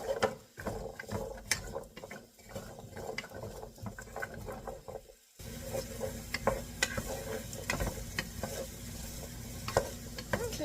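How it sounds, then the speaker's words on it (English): Vegetables are stirred in a hot pan during meal prep. A utensil makes repeated close scraping taps against the pan over a continuous sizzle, and the frying grows louder and fuller partway through. "we're going to just let it do its thing and just stir it around and let it get nice and coated and begin to cook."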